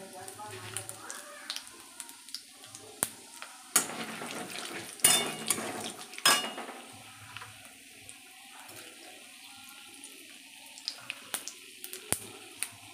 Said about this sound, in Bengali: এবার তেজপাতা, শুকনো লঙ্কা আর এই 5 ফোড়ন